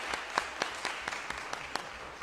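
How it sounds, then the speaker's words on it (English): A small audience gives sparse, scattered applause for an honored guest at a gathering, with distinct individual claps spaced out over a couple of seconds, fairly quiet and without talk. "Give him a round of applause."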